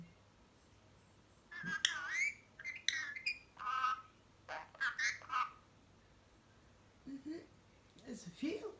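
A talking parrot makes several squawky, chirping vocal bursts in short phrases, mixed with a person speaking softly nearby.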